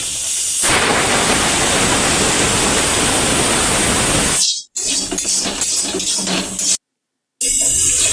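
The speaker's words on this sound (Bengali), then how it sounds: "আর এদিকে দেখো কুকারে সিটি পড়ছে।" A kitchen pressure cooker boiling peanuts lets off a loud, steady steam whistle. The hiss is broadband and goes on for about four seconds, then drops into short bursts of rattling and hissing broken by brief gaps of silence.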